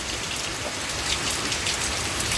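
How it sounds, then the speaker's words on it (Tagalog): Heavy, wind-driven rain pours down in Daet, a dense, steady roar of drops hammering surfaces close by, constant and unbroken throughout with no voices. "wag naman sana lumakas pa at magtuloy-tuloy yung ulan"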